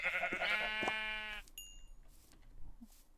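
A sheep in the Minecraft video game gives one loud, drawn-out bleat with a wavering tone, then fades into faint background game sounds.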